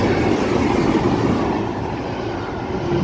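Freightliner Class 90 electric locomotives pass through a station on the West Coast Main Line at Wolverton, a steady, loud rolling rumble of wheels and wagons that holds throughout.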